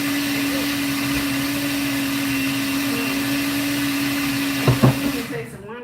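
A nut milk maker whirs steadily while blending plain nut milk from nuts, a loud continuous motor hum with a fixed pitch that stutters and cuts off near the end.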